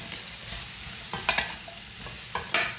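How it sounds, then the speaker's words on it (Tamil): Mushrooms sautéing in a pan, a continuous close sizzle broken by a few sharp scraping stirs of a spoon against the pan, no voices. "இப்போ காளானை வதங்க விடுவோம்."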